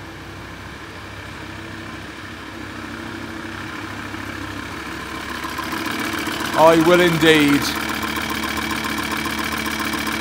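A Volkswagen T4 van engine, with half the engine missing, idles with a steady low hum, while someone speaks briefly near the middle over the running motor.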